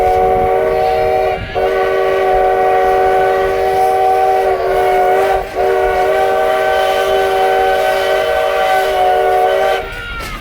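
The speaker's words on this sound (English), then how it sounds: "The right-of-way we're traveling over today is from the original V&T or Virginia and Truckee Railroad." A Virginia and Truckee Railroad train, running on the original V&T right-of-way near Virginia City, sounds a loud, sustained multi-tone horn with brief gaps, close by, over the rumble of the cars on the rails.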